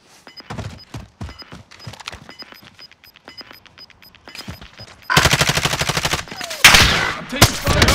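Call of Duty: Modern Warfare gunfire: scattered single shots and short machine-gun bursts, then heavy sustained automatic fire grows loud and dense, with faint radio-style voices between the shots.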